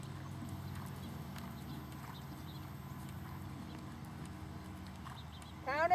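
Horse hoofbeats during a riding lesson in a double bridle: soft, rhythmic cantering steps, faint and slightly distant, with a few quiet words of instruction.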